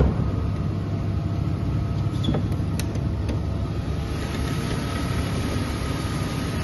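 A BMW E39 528i with its 2.8-litre petrol engine idles with a steady, even hum and a faint high whine, recorded close and heard alone without talk.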